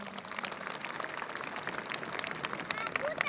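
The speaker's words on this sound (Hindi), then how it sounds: "एक बार जोरदार तालियां।" A crowd at a passing out parade for a training batch at an SSB training centre in Shamshi claps steadily in dense, crackling applause that sounds somewhat distant and stays fairly faint throughout.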